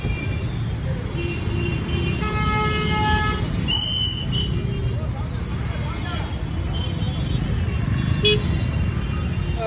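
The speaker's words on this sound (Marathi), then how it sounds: "मुंबईची ट्रॅफिक." Mumbai street traffic: a continuous low rumble of engines with several car horn toots scattered through, a couple of longer honks near the start, all close and busy.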